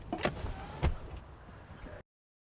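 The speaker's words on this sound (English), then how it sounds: "You've also got a 60-40 split on the rear seats, so you simply lift this lever over here and push them forward" Rear 60-40 split seats in a 2024 Hyundai Kona Premium N Line are released by lever and pushed forward, producing two sharp mechanical clunks over a faint interior hum before abrupt silence.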